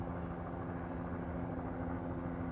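A faint, steady drone of a helicopter in flight, with an even low hum that holds unchanged throughout.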